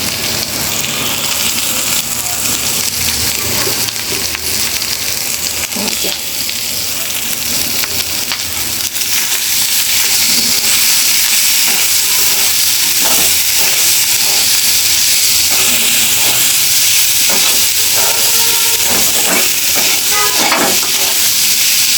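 Cooked rice stir-fried in a hot pan for children's tiffin fried rice, a steady loud sizzle and hiss with scraping and stirring clatter throughout, no talking.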